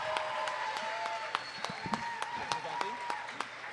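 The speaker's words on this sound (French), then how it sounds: "On applaudit Popo d'Arèche!" Audience applause for a stand-up comedian, a steady wash of clapping with sharper individual claps standing out, with some crowd voices mixed in.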